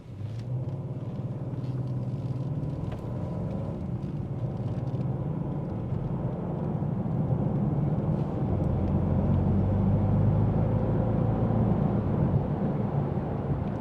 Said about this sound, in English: Back on the brake real quick, and we're gonna get up to speed here.